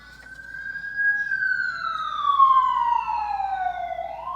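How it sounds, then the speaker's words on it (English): A wailing emergency siren sweeps high then gradually falls in pitch, loud and sustained over a low steady hum, part of an ambient city noise sample laid into a hip-hop beat. "I also have some ambient city noise with sirens to make it sound real hip-hoppy and city urban sounding"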